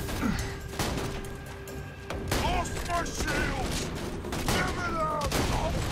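Shotgun fire in the video game Borderlands 2 during a boss fight, several loud booming blasts spaced a second or two apart over dense game noise and effects.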